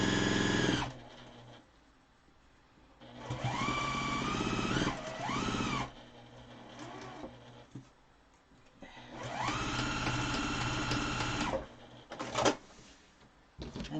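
A sewing machine runs in several sustained bursts, stopping and starting as it back stitches fabric while making a face mask, with short pauses and a brief quick burst near the end.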